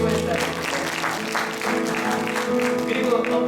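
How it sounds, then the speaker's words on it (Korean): Korean church congregation applauding at a Sunday service, a continuous patter of clapping over a sustained tonal background, with a voice carrying through at times. "박수 한번 쳐주세요."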